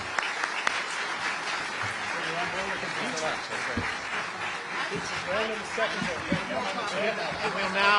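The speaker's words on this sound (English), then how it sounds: "give all of our panelists a round of applause" Audience applause for the panelists after a discussion with Liz Cheney on the future of the Republican Party, moderate clapping mixed with crowd murmur and some talking, with light laughter woven through.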